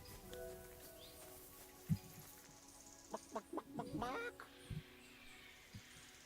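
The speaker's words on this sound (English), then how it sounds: "You're making chicken sounds" A chicken in Kingdom Come Deliverance 2 gives several short clucks and a brief squawking burst, quiet and fairly close, mixed with faint background game sounds and soft voices.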